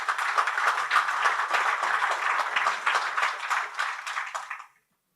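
A conference audience at PromCon 2018 applauds a talk on Prometheus data in Grafana. The dense, steady clapping from many hands lasts about four and a half seconds, then cuts off sharply into silence.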